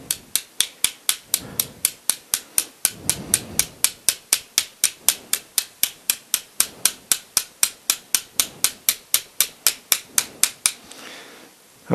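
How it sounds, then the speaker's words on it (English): A brass hammer strikes a stainless steel twist ring on a homemade ring bending machine to close a gap, in a rapid, steady series of around forty sharp metallic taps with brief pauses, close and clear with no talk. "All I'm doing right now is closing this gap up by hitting down on here."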